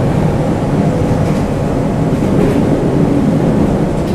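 Inside a JNR-era Type 117 train running as an overnight express from Osaka to Izumo in Shimane, a loud motor roar fills the car with a dense, steady drone and running noise, close and unbroken, with no talk.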